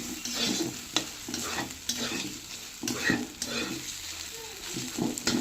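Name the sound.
spice paste (masala) frying and stirring on low gas flame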